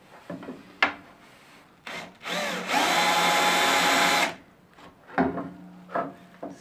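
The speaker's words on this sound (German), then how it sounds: "jetzt werde ich durch diese Löcher mit dem Metallbohrer einfach die Stellen markieren und dann durchbohren." A metal drill bit bores through a pre-marked hole while converting a Festool POF 1200 router into a router table; one sustained, loud whine of about two seconds stands between short handling knocks and clatter before and after.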